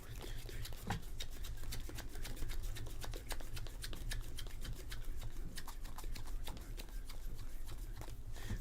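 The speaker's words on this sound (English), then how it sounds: "Shuffling 31 cards back into the deck." Pokemon trading cards riffled and shuffled back into a deck, a long run of crisp, rapid flicks and slaps, close and steady, with quiet voices faintly underneath.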